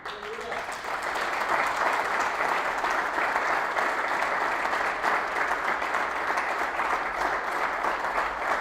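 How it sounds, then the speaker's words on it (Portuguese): Audience applause fills a lecture hall during a talk on men's mental health by a Brazilian therapist, a dense, steady wash of clapping that swells after the first second and holds loud, with voices mixed into the crowd. "Glória a Deus por essas palmas."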